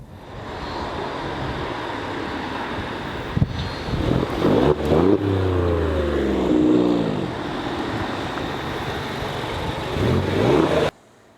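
A 510 hp Alfa Romeo Giulia Quadrifoglio accelerating hard, its engine rising in pitch through revs with gear shifts, loud and close from inside the car, ending abruptly.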